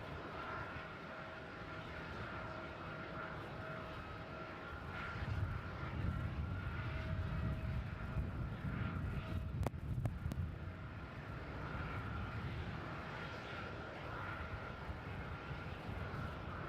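A United airliner taking off from runway 34 at Melbourne Airport, heard from a distance as a steady, faint engine roar that swells midway and then holds, mixed with wind noise on the microphone.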